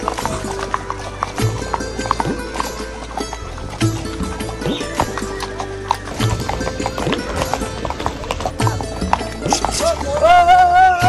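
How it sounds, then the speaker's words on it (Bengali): A large, strong horse on a tour in Pahalgam, Kashmir, walks with steady clip-clopping hooves close by, mixed with background music and scattered voices throughout. "এই ঘোড়াটা বড় ঘোড়া"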